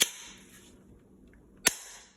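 An airsoft gun fires two sharp, loud shots about one and a half seconds apart, each a crisp crack with a short decay, with no talk between them.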